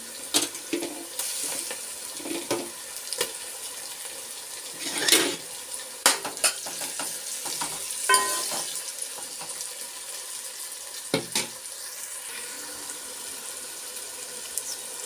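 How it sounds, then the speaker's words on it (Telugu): Tomato pieces going into a pan of frying onions for a fish curry: a soft sizzle under sharp clinks of utensils against the pan and intermittent stirring scrapes, nearby with no talk. "ఉల్లిపాయలు అయితే మగ్గినాయండి ఇదిగోండి టమాటా ముక్కలు అయితే వేస్తున్నాను"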